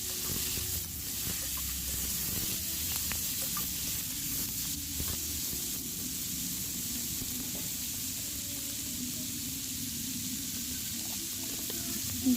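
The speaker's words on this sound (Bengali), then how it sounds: "দিয়ে এটা একটু ভালোভাবে ভেজে নেব।" Kharkol stalks, boiled beforehand, frying in a pan for a village Bengali kasha dish, a faint continuous sizzle and hiss with a few soft clinks, no voices.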